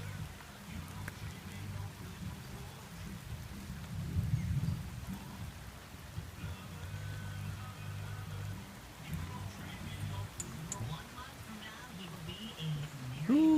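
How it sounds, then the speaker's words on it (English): Steady rain falls outdoors in the evening as a thunderstorm approaches, with low rumbling thunder rolling under the patter, and someone speaks over it now and then. "I'm just waiting for the storm to hit here, and then I'll go back in the house."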